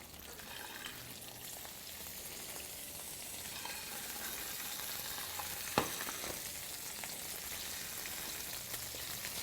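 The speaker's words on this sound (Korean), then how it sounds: "요 같은 건 이제 껍질 바삭하게 해주려고 지금 센 불에서 껍질만 바삭하게 한 다음에" Seasoned chicken skin sears in a pan over high heat, a steady close sizzling and crackling with a few sharp pops, heard without talk.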